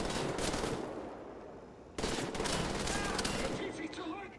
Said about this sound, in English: I'm shooting straight through the building.